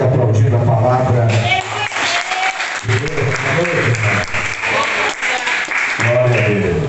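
Applause from a church congregation during an evening worship service, sustained hand clapping with some cheers, mixed with a voice speaking and shouting over the crowd throughout.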